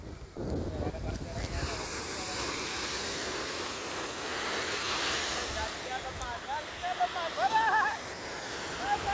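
Water flows nearby in a steady broadband rush mixed with some wind buffeting, with a voice speaking briefly toward the end.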